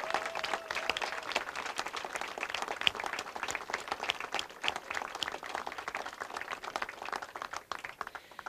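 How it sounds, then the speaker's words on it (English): An outdoor crowd at a farm ribbon-cutting claps for donors, a steady, moderately loud patter of many hands sustained across the whole stretch. "give an extra special round of applause to the people who gave money to make this project a reality"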